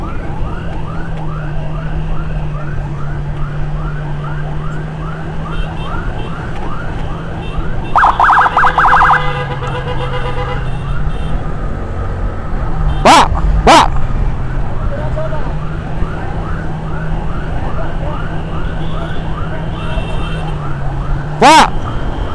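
An ambulance siren wails in a continuous rising and falling cycle, loud and near, with a few sharp horn-like blasts and bursts of traffic noise cutting in along the way.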